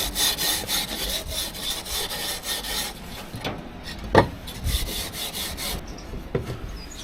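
Rasping strokes smooth the edges of bicycle wheel rims on an Austin Pathfinder under restoration: rapid, close filing at first, then sparser scrapes and a few sharp knocks.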